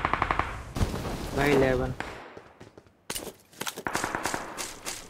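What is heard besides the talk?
gunfire in video game BGMI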